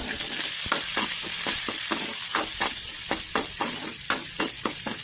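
Small shallots sautéing in oil with fenugreek and cumin for a tamarind curry, giving a bright, continuous sizzle marked by a regular rhythm of spoon scrapes across the pan.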